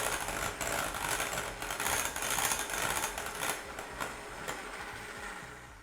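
An electric hand mixer beats no-bake cheesecake filling, giving a continuous close motor whir with a slightly wavering pitch and uneven grinding as the beaters work the mixture.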